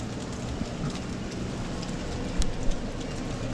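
Steady rain falls throughout a wet, dim day outdoors, a dense even patter with a brief louder splash or gust near the end.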